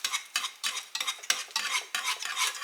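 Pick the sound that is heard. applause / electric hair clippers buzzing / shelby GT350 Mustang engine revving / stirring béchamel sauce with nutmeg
stirring béchamel sauce with nutmeg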